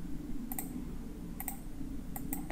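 Computer mouse right-click during Autodesk Inventor top-down CAD modelling: three sharp, faint clicks, each a quick double tap, spaced about a second apart over a low steady hum, with no talk.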